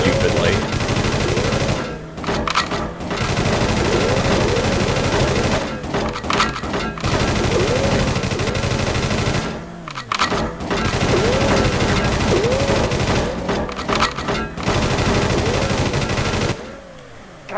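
Machine gun fire rattles in long continuous bursts in the PS1 game World's Scariest Police Chases, with brief gaps between volleys and warbling siren-like tones beneath the dense, loud shooting.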